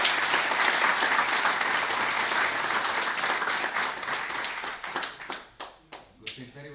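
Audience applause at a poetry book launch, a dense burst of clapping from a seated crowd that thins out toward the end into a few scattered, separate claps.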